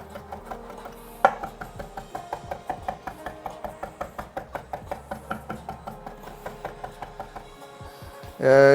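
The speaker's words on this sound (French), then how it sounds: "on n'a plus qu'à hacher la purée" A knife chops through a purée on a cutting board in a home kitchen, a steady run of quick, evenly spaced knocks, fairly close.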